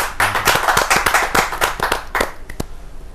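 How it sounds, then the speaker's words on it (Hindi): An audience at a Hindi kavi sammelan poetry gathering claps loudly and steadily for about three seconds, with dense overlapping hand claps that thin out into a few last claps at the end. "जोरदार तालियों के साथ"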